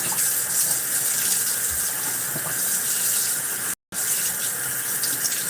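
Tap water runs steadily into a kitchen sink while waiting for it to warm up, a loud, even hissing splash that cuts out for a split second and then carries on.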